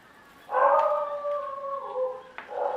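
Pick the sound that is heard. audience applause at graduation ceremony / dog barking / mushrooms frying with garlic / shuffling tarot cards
dog barking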